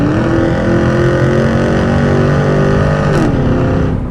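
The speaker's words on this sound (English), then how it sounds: "that SLP Loudmouth is an awesome sounding exhaust" A 2002 Pontiac Trans Am WS6 with a 5.7 V8, automatic transmission, original manifolds and an SLP Loudmouth catback exhaust revs loud and close, its deep rumble rising and settling through sustained throttle blips.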